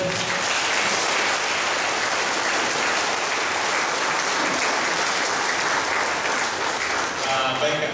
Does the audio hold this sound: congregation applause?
yes